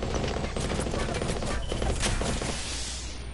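Rapid gunfire in the Apex Legends video game, a dense burst of overlapping shots crackling without pause for a few seconds, with a faint voice mixed underneath.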